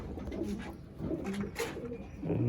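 Male Madrasi or Andhra pigeons coo inside a newly built loft, overlapping low, rolling, throaty coos that swell and fade close by, with a faint voice briefly in the background.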